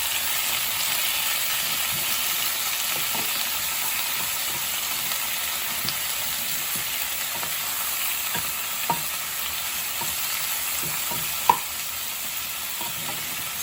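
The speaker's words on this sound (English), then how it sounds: "So stir the bok choy so that the garlic will not sit on the pan and getting burnt." Baby bok choy stir-fried with garlic in a hot pan gives a steady, close sizzle with a few sharp clicks and scrapes from stirring, running evenly throughout with no voices.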